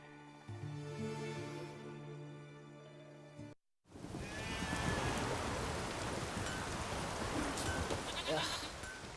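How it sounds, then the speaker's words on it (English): Steady rain falls in The Witcher 3 after a brief musical passage and a short gap, a dense hiss of drops that carries on loudly while other sounds briefly rise over it. "There's no point standing here in the rain."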